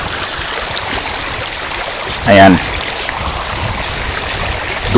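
Backwash water from a swimming pool filter gushing out in a steady broadband rush, with a brief louder splash in the middle; someone talks over it.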